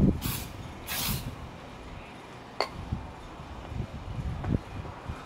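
Aerosol chain lube sprayed onto a motorcycle chain gives two short, close hissing bursts, followed by faint clicks and handling noises.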